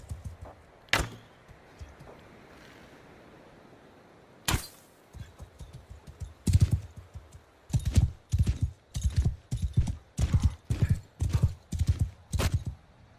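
Horse hooves clip-clop in the video game Mount and Blade Bannerlord 2, a few isolated thuds early, then a quickening run of loud, evenly spaced hoofbeats, with occasional sharp impacts and faint neighing.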